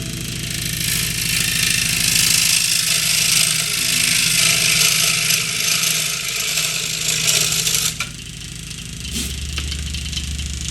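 A power tool runs steadily and loudly while cutting out a part for a 1:400 scale model of the S.S. Edmund Fitzgerald, with a continuous motor whine that shifts slightly near the end.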